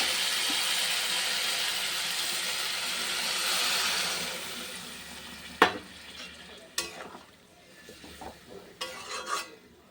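Spice paste frying with eggplant in a pan sizzles loudly, then quiets as water is poured in, followed by a few sharp clanks of a utensil stirring against the pot.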